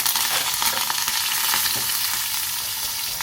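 Curry leaves frying in hot oil with spluttering mustard seeds and asafoetida, a dense, loud, continuous sizzle with crackling bursts and no voices.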